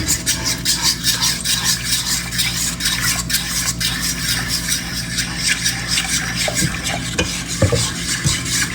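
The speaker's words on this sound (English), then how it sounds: "We're gonna keep stirring" Continuous scraping and stirring of a milk and flour country gravy in a pan, a steady rhythmic rubbing with faint sizzling and a few clinks of the utensil near the end.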